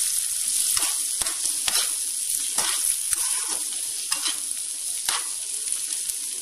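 Egg and onion fry in a pan while a spoon stirs them through, giving steady loud sizzling broken by repeated scraping strokes at a close, even rhythm, with no voices.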